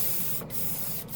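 A cheap portable tankless air compressor runs continuously, giving a steady loud close hiss with a couple of brief dips.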